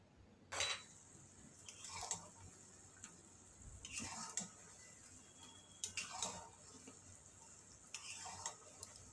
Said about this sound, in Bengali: যতক্ষণ না গুড়টা টেনে আসছে ততক্ষণ নাড়তে থাকবো।